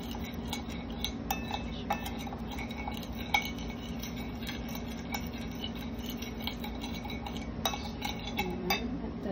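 A dish being mixed in a pan with a metal spoon: irregular scrapes, clinks and taps against the cookware, close up over a constant low kitchen hum, with no one talking.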